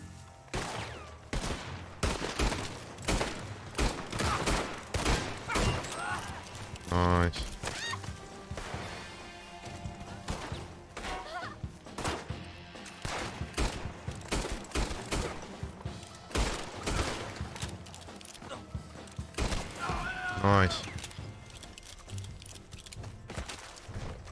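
Dense, continuous gunfire in the Western video game Red Dead Online, rapid volleys of shots crackling through the whole stretch, loud and close, with occasional horse whinnies and crashes in the mix.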